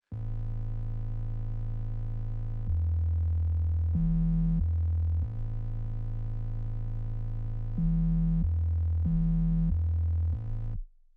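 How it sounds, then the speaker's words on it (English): A buzzy, saturated synth bass line plays alone, holding long sustained notes that step between a few pitches in a slow, steady pattern. "for the intro, we've used a saturated bass line, which sounds like"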